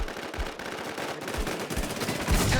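Gunfire in a shooting video game, a series of punchy shots spaced irregularly over a busy, noisy game background with no clear talk.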